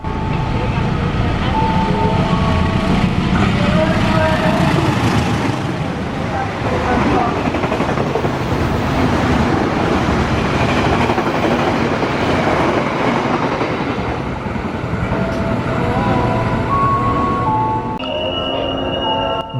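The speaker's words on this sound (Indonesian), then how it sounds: "Tapi sebelum itu jalur 2-nya akan melintas kereta api Matarmaja" Matarmaja 270 passenger train passing on track 2 at a station, a loud, sustained rumble and rolling clatter of wheels on rails that fills the whole stretch, with voices faintly beneath.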